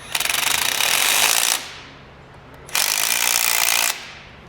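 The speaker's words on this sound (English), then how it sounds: "Everybody's favorite tool, the 3/8 impact." Two loud bursts from a 3/8-inch impact wrench on a truck front differential, each a rapid rattling hammer lasting over a second, separated by a brief pause.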